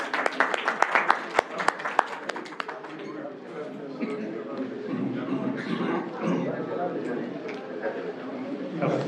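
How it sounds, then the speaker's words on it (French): Audience at a francophone book-publisher anniversary event with invited authors applauds in a hall, sharp claps at first softening into a steady, dense wash of clapping with murmuring voices underneath. "C'est Monsieur Magaye Touré, que je vous demande d'applaudir bien fort"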